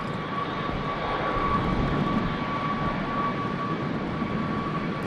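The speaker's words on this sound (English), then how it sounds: "EasyJet just taxiing out for Lisbon" An EasyJet airliner taxis out at Manchester Airport on a windy day, its engines producing a steady, moderately loud jet rumble with a thin constant whine, unbroken for the whole stretch.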